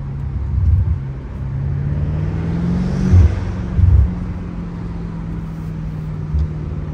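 A BMW M8 Competition engine accelerating on a road in traffic, a steady loud drone that rises slightly in pitch, with a couple of low thumps and no talk.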